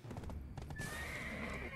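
Horse hooves clip-clopping at a gallop in the game Black Desert Online, with a whinny rising over a steady, loud rhythm of hoofbeats and no talk.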